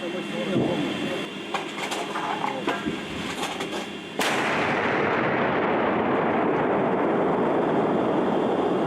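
A Ukrainian tank cannon fires a shell from a closed position. A single loud, close blast breaks in midway and leaves a long, heavy rumble, while voices and field noise come before it.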